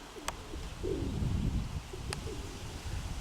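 A steel-colored hen pigeon coos softly in a few low, throaty bursts at a moderate distance, with a couple of brief sharp chirps and faint background noise.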